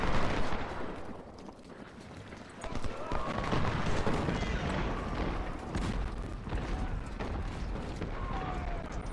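Volleys of musket fire in the Civil War strategy game Ultimate General: Civil War, a dense crackle of overlapping shots and booms rolling on without pause, with faint shouting mixed in.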